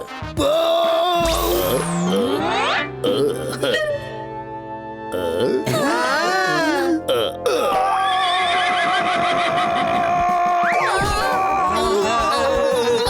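A cartoon racehorse neighs and whinnies after a race, its loud, wavering calls repeating over a lively crowd, with a voice speaking and other playful cartoon effects mixed in.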